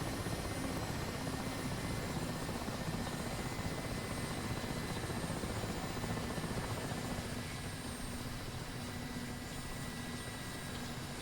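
Mi-8 helicopter engines in the DCS flight simulator throttling down: a loud, steady rotor and turbine roar runs throughout and eases slightly in level near the end, with no voices.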